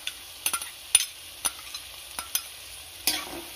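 Green chili, ginger and curry leaves fry in a pan under a quiet, steady sizzle, punctuated by about eight sharp scraping clinks as a spoon stirs at uneven intervals. No voices.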